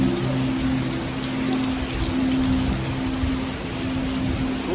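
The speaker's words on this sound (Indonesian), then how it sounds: "Waduh, ini kondisinya lagi hujan." Heavy rain pours steadily outside the National Museum of Indonesia in Jakarta, a dense, continuous hiss close by with a low hum underneath and no voices.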